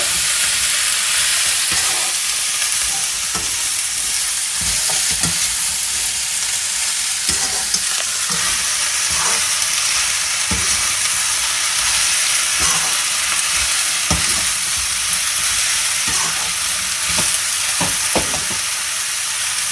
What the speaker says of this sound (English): So give them all a good stir.